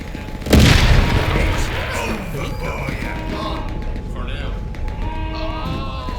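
A shotgun blast in the first-person game Atomfall booms out loud and close near the start, its heavy rumble trailing into a noisy stretch of game ambience with voices talking over it.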